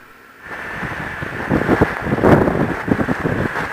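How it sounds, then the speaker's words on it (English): Strong wind buffets the microphone in a steady, rough roar on a main highway up the east coast of Tasmania, gusting louder midway with no one speaking. "Oh, man, it's so windy."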